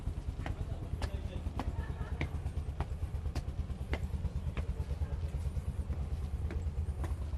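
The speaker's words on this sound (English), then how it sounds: "You guys hear the engine, right?" A motorcycle engine idles and runs steadily nearby at a street gathering of bike fans in Tokyo, a low continuous rumble with sharp clicks and knocks above it, while people talk faintly.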